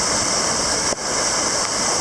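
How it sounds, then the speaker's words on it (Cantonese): A waterfall in a mountain ravine pours with a loud, steady hiss of rushing water, close and unbroken apart from a brief dip in the middle, with no voices. "第二個瀑布，好靚"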